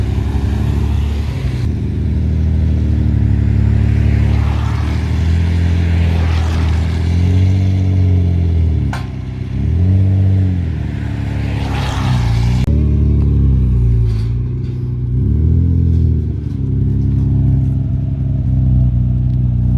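A Nissan Skyline pulls away with its engine revving in loud, repeated rising and falling sweeps, close by at first and then continuing as it drives off, with no talking over it.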